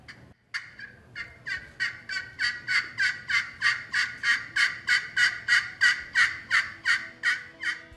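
A turkey call produces a fast, evenly spaced series of about twenty sharp yelps, loud and close, mimicking an excited hen.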